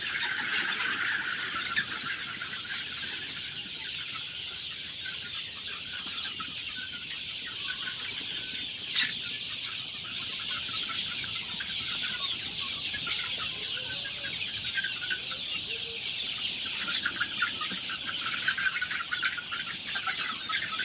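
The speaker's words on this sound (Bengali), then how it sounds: "মুরগিগুলো ধরাই সমস্যা হয়ে যাচ্ছে" Chickens cluck and chatter continuously at moderate distance, with occasional louder squawks and a bit of wing flapping.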